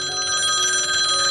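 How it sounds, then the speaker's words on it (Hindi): A telephone bell rings steadily and loudly, its bright repeating trill filling the whole short moment with no other sounds around it. "उधर फोन पर फोन बजता जा रहा था"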